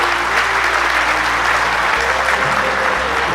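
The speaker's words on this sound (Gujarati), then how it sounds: "ભાઈ, તાળીઓના ગડગડાટથી એમને વધાવી લઈએ" A large crowd at a Gujarat state school principals' association convention breaks into thunderous, sustained applause, steady and dense throughout with a low electrical hum beneath it.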